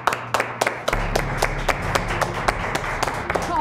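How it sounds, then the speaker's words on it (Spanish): Restaurant staff clap to welcome a new executive chef, a small group whose separate, distinct claps ring out unevenly and close by, with a low rumble of the room underneath. "Así que, por favor, reciban con un fuerte aplauso al gran Alex Aldama."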